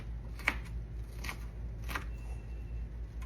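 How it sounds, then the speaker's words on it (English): A knife chops an onion on a board in a home kitchen, with about three faint, crisp cuts spaced under a second apart against quiet background hum. "we're going to get here into another onion"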